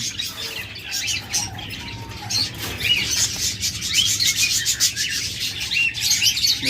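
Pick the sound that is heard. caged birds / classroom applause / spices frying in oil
caged birds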